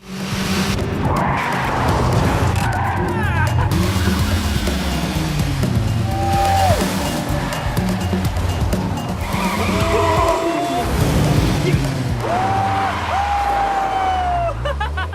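Tires skid and squeal repeatedly through a loud film car chase, with revving engines racing past. The long screeching slides come in bursts over constant roaring traffic noise and a faint murmur of voices.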